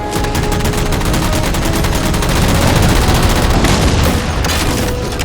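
Sustained automatic gunfire in the video game Halo 4 as jammers are shot down, a dense, loud, unbroken rattle of rapid shots that continues for several seconds with heavy booming underneath.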